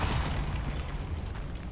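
A Depulso spell is cast in the video game Hogwarts Legacy, giving off a brief, deep whooshing boom with a low rumble that quickly fades away.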